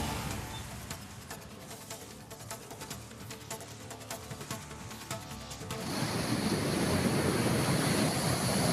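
High-tide sea waves pound Karwar's Devbhag beach, a low roaring rumble that swells into a louder, broad wash of surf in the final seconds.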